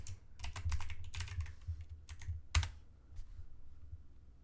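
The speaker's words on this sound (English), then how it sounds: "You need to type your password in, your email password into verify." Someone types a password on a computer keyboard, giving soft, close key clicks in quick uneven bursts with a few louder strokes and short gaps, no talking.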